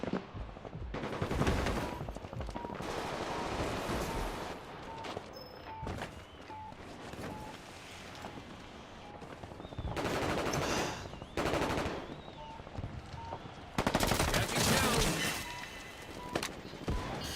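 Rapid bursts of automatic gunfire from live rounds in the shooter game The Finals, coming in several loud, sustained volleys with short pauses between them, with footsteps and game effects in the background.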